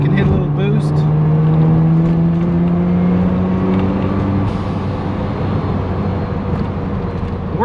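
A Mazda RX-7 FC3S rotary engine revs up close, a strong rising tone climbing and holding as it hits boost, then dropping back to a loud, steady idle rumble.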